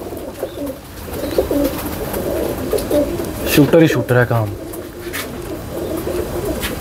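Golden high-flyer pigeons coo in repeated soft, throaty rolls close by, with someone talking briefly over them in the middle.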